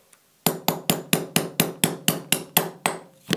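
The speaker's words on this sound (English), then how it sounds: "So we're going to take a punch and just hammer this out." A punch is struck with a hammer to drive out the firing pin retainer pin on a Stribog SP10A3 10mm pistol, giving about a dozen sharp, evenly spaced metallic taps, close and loud with no talk.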